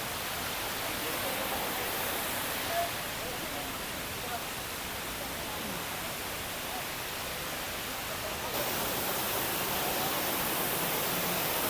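Hinulugang Taktak waterfall in Antipolo sends out a constant, even hiss of falling water that fills the whole scene, growing slightly louder toward the end, while people talk faintly underneath.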